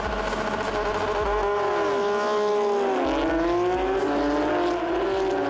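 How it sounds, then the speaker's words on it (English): Porsche Carrera Cup race cars at the Porsche Rennsport event start a race, with a loud, continuous roar of several engines revving and rising in pitch as they pull away and pass close by; no talking. "Ready for a start, Porsche Carrera Cup Australia at Porsche Rennsport."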